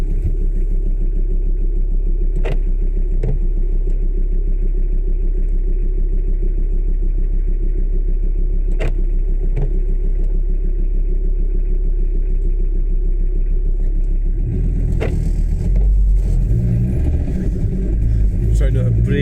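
A car loaded with cargo in the back cruises along the M9 motorway, giving a steady low engine and road drone with occasional knocks and clatter, growing rougher and louder near the end.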